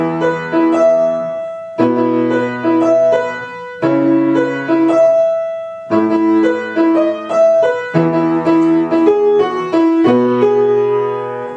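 Electric guitar playing the intro of a song without an effects pedal, repeating a clean arpeggiated chord pattern in steady two-second phrases, close and clear with no talking.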